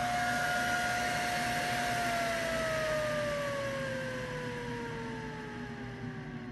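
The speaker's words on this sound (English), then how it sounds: "it sounds like a jet engine turning off" A loud graphics card fan whine winds down, its pitch sliding steadily lower as the whooshing roar gradually fades, like a turbine powering off.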